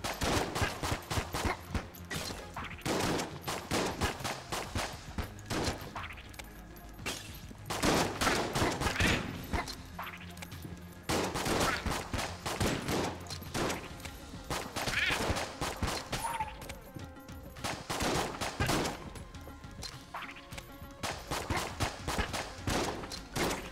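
Rapid, dense gunfire from a shotgun shell enemy in the Enter the Gungeon video game, a relentless barrage of overlapping shots and blasts continuing throughout at steady loudness with no talk.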